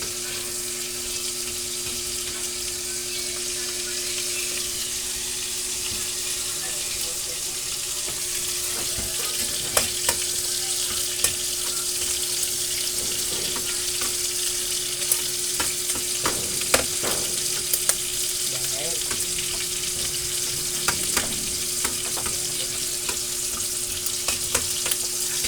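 Garlic fries in a pan for pork sinigang, a constant close hiss of oil with scattered crackles and light clicks of stirring.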